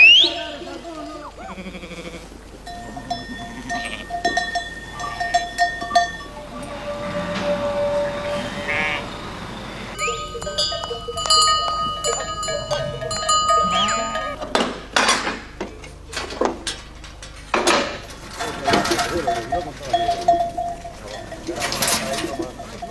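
A flock of sheep bleats in repeated overlapping calls as they are loaded onto trucks, with bird cooing and chirping nearby and occasional voices mixed in.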